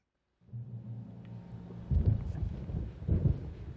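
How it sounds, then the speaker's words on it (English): Stormy ambience in Alan Wake Remastered, a steady low rumble swelling into louder rolling thunder-like bursts near the end, with no voices over it. "There's a storm coming. Oh, what a storm."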